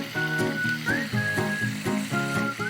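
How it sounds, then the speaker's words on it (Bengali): Fish, including khoira, frying in a pan in a kitchen: steady close sizzling and crackling throughout, with a recurring tonal whistle from something on the stove and no talk. "মাছটা ভাজা চলতে থাকুক"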